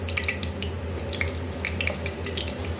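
Mixed vegetable kebabs fry over a low flame in hot cooking oil, giving a soft, steady sizzle with scattered small pops and crackles, quiet and close.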